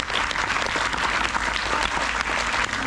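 Audience at a Hindi poetry recital applauds steadily, a dense, even patter of many hands clapping throughout at moderate distance.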